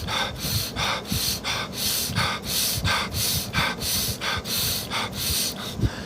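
Rapid, forceful short breaths from a person demonstrating a breathing technique, a steady run of about a dozen sharp nasal exhalations in even rhythm, close and loud, with no talking.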